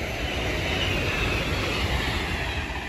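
A Class 390 Pendolino passenger train, unit 390114 heading to Liverpool, rushes past at Bletchley in a loud, continuous close-up roar of wheels and rail noise, with no voices.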